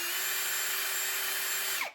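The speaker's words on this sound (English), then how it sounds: "put that in the drill and drill straight through right here." A power drill drilling through a plastic fork guard bracket for a Yamaha YZ250F whirs steadily at high speed for almost two seconds, then winds down and stops.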